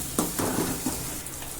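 Ginger garlic paste sautéing in a pan: a steady close sizzle and crackle with a few soft scraping stirs cutting through, no voices.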